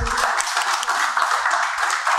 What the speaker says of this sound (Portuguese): Uma salva de palmas para o doutor Roberto Macedo.